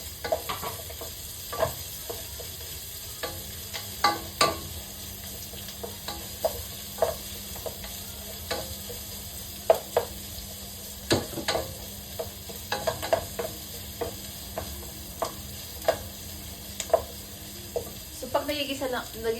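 Chicken feet and ginger sauté in a pan, with a steady low sizzle and repeated scraping, clacking stirs of a utensil against the metal throughout, close by; a voice speaks briefly at the start.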